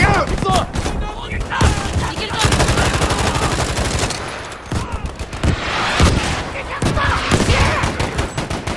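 Rapid gunfire from a Battlefield 5 Pacific Front battle, dense bursts of loud close shots and fusillades running almost continuously with brief lulls.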